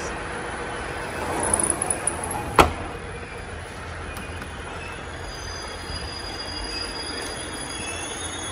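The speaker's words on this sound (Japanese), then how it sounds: "3番線に入線です。" A JR East Rikuu East Line train pulling into platform 3, a low rolling rumble with a few squeals and a sharp metallic bang, then a steady hum as it settles.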